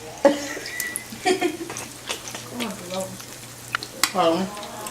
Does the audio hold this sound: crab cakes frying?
yes